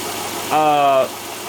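A 2009 Subaru Forester engine with a P0028 valve timing fault runs at a steady, fairly loud idle during a valve timing test, with a brief tonal whine rising over the hum midway before it settles back.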